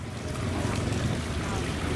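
A small boat moves across the water with a steady, close rumble and the continuous wash of water and wind. No voices are heard over it.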